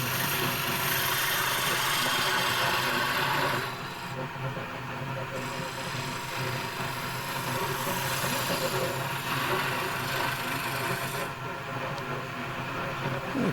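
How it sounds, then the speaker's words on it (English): A wood lathe turns a madrone (Irish strawberry) darning mushroom while a fingernail gouge evens the edge of the cap, giving a steady motor hum and a continuous rasping cut. The cutting noise runs loud and close, then eases to a lower whir and later returns. "changing over to the fingernail gouge just to even the edge of the cap out"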